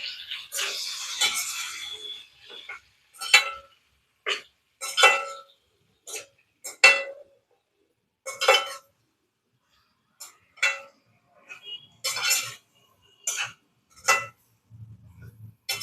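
Brinjal (kathirikai) gravy with salt and masala being stirred in a pan, a spoon scraping and clinking against the metal in irregular bursts with short pauses, close and moderately loud, with no talking.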